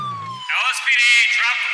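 A police siren in the video game GTA 5 sounds from an LSPD Dodge Ram on a beach patrol at night, a loud wailing electronic tone that cuts in after a man's brief speech and continues to the end.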